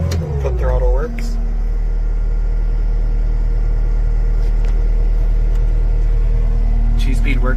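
Steady engine drone from a 2020 Caterpillar 259D3 compact track loader, loud and continuous with a low rumble, rising briefly at the start as the foot throttle works, then holding an even running pitch.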